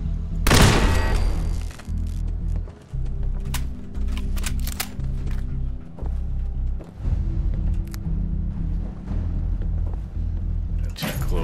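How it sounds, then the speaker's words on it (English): A video game turret opens fire in sustained rapid bursts of gunfire, loud and close, with a sharp initial blast and then thudding shots that continue almost without pause. "Oh, we've got a turret over there."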